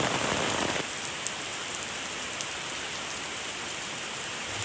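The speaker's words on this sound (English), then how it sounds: "Now this is a heavier rain than before." Heavy rain pounds steadily on a Tesla Model 3, a dense, even hiss of drops drumming on the car's surface, close and continuous with no voices.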